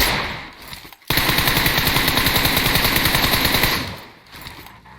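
An M16 rifle in a PUBG-style shooter fires a long, rapid, unbroken automatic burst lasting about three seconds, loud and close, then cuts off into quieter game ambience.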